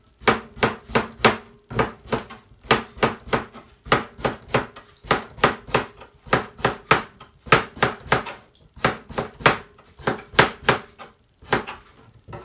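Cucumber being cut with a knife on a board for a salad, quick rhythmic bursts of crisp chops in clusters with short pauses between, close and clear and without talk.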